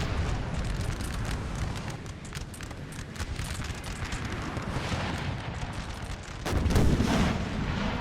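Cannon and musket fire in a Napoleon: Total War street battle, continuous crackling volleys with heavy booming artillery and a louder burst toward the end.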